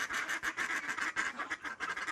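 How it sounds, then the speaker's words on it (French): A greater white-fronted goose calls repeatedly in quick, cackling bursts, close and fairly loud, with no other sounds around it. "Une oie rieuse."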